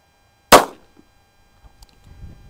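A Sig Sauer P238 pistol fires a single 380 ACP 100-grain flat-nose hardcast round at a hard barrier, one sharp loud crack followed by faint handling noises.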